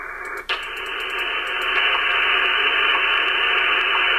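An RTL-SDR radio tuned to the HF 20 meter band hisses with loud, steady static. A brief click near the start is followed by continuous broadband noise with faint faded tones beneath it, and no voice is heard.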